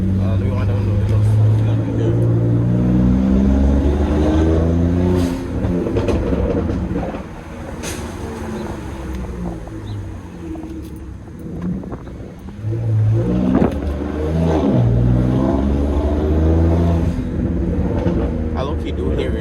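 A BMW N54 engine fitted with velocity stacks, heard from inside the moving car with the windows down: a loud, steady engine drone and road rumble that rise and fall with throttle, with someone talking over it.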